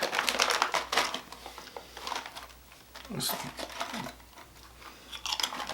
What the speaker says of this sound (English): But this one actually it's a lemon potato chip, so we'll see. We'll see what that one tastes like.